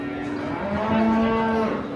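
A loud, close cow moo at a livestock market, one sustained low bellow lasting about a second and a half, with background crowd noise.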